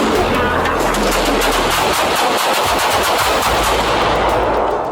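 Rapid, sustained gunfire crackles loudly and densely throughout, a chaotic burst of many shots with no speech, during a police confrontation with an armed suspect.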